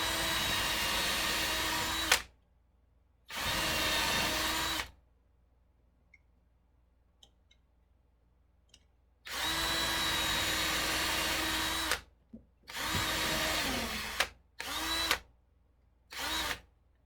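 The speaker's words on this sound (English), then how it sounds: "So I'm just going to drill 1, 3, and 5." A power drill whines in several loud bursts separated by silences as it drills holes in wood, with a few short final bursts near the end, close by.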